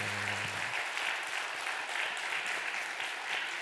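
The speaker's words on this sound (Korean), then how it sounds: "하나님이 영광 받으시도록 우리 힘차게 박수." A church congregation claps loudly and steadily at an anniversary thanksgiving service honoring the pastor's 30 years, dense sustained applause filling the room with a brief tone or voice at the very start.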